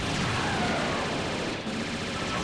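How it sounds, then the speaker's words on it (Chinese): Bullets fired by an enemy stone statue in a Metal Slug-style run-and-gun video game burst into explosions on landing, a dense, continuous barrage of blasts and gunfire rumbling loudly throughout without pause. "敌方石像的眼睛闪光之后是会发射这种子弹的， 子弹落地之后会发生爆炸"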